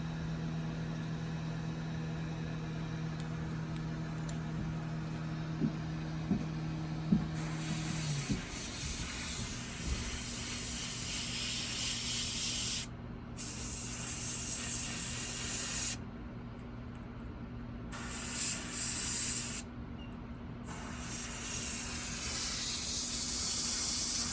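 A heat gun sets the paint on a handmade fishing bait, giving a loud, steady rushing hiss that runs almost without a break and cuts out briefly a few times.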